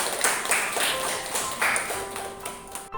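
Classroom applause for a student named Nisa, with scattered light claps and taps over about three seconds, fairly close and modest in volume.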